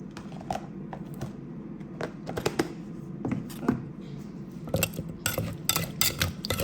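Thai som tam papaya salad being pounded and mixed in a mortar, with repeated clinking, scraping taps of pestle and utensil in an irregular rhythm, close and fairly loud, with brief bursts of sharper clatter.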